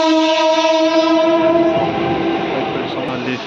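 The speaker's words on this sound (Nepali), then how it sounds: "हाम्रो ट्रेन चाहिँ आयो व्हाइटफिल्ड जाने ट्रेन" A train bound for Whitefield pulls into a station, its loud horn sounding as a long steady blare of stacked tones that fades into rumbling rail and carriage noise, close and continuous throughout.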